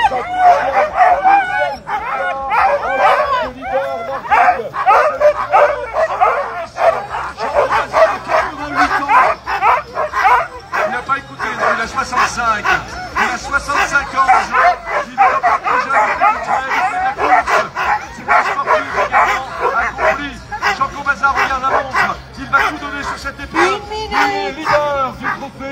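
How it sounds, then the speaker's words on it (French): Sled dogs bark and yip continuously in a loud, excited chorus at the start of a stage of a long-distance sled dog race at Villard-de-Lans, with a commentator speaking over the din throughout. "Il a mis 10 chiens, Jean, pour faire plaisir au maximum d'entre eux."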